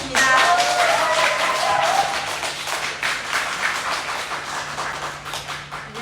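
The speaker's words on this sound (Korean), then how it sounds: "루비 디렉터 이미연 리더님을 큰 박수로 모시겠습니다" Audience applause welcoming a speaker at a business presentation in Mokpo. The clapping is fairly loud at the start and gradually thins and fades, with a faint steady hum underneath.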